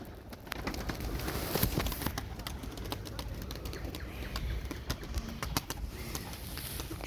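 A young smoky-grey pigeon coos softly and shuffles nearby, its low calls mixed with scratchy clicks and rustling movement over steady background hiss.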